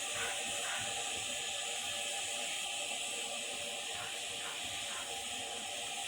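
Water heating in an idli steamer gives off a steady, continuous hiss of steam, loud and close, unbroken with no talk over it.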